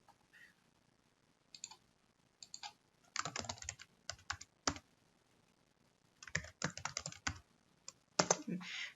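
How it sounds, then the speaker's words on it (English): Someone types on a computer keyboard while entering a name into an Excel spreadsheet, with irregular bursts of quick, close clicking keystrokes separated by short pauses. "going to the name box and typing in the name and pressing enter"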